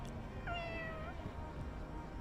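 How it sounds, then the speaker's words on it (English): A single drawn-out cat meow from Fire Emblem Engage, clear and fairly close over a steady background hum of game ambience. "We're taking a cat from the past?"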